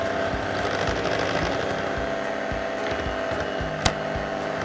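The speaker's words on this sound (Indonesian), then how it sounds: "campur aja pakai hand whisk ya, diaduk" A hand whisk stirs cookie brownie batter in a bowl with a steady, rhythmic scraping and rattling, close and continuous, broken by one sharp knock near the end.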